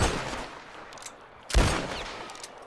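A Lamont pistol loaded with shotgun shells fires in Red Dead Online: two loud, booming blasts about a second and a half apart, each trailing off in a long rumbling echo.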